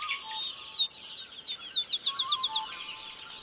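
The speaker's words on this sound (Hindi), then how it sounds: "और यहाँ सिर्फ पक्षी ही नहीं चहचहा रहे हैं।" Birds chirp at dawn in a village in Banaskantha district, Gujarat: a run of bright, rapid tweets and short calls from several birds, fairly close and clear, with a quick repeated series toward the end and no talk.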